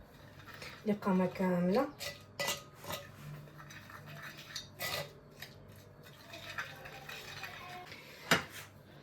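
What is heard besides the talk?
mixing ingredients with a little water in a bowl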